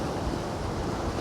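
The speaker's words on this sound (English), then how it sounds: "the water continually has this conversation with these rocks" Water washes continuously against rocks along a shoreline, a steady broadband surf-like rush with faint wind noise and no distinct breaks.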